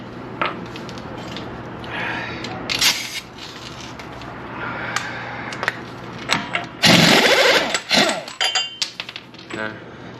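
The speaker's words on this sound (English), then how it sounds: "the last thing that I need to do here is going to be to remove the CV axle nut. 32 millimeter." A 32 mm CV axle nut is removed on a 2015 Ford Flex during front brake and axle work, with metallic clinks and tool rattles, then a loud burst of ratcheting or impact-gun noise near the end.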